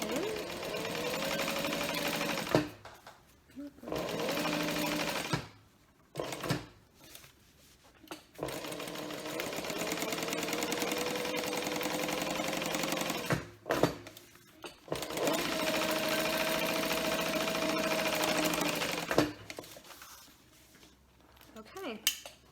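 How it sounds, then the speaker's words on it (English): A sewing machine topstitches a structured piece of fabric made with no interfacing. It runs in several bursts of a few seconds each, separated by pauses and small handling clicks, close and fairly quiet. "do at least one of the top stitching sides first"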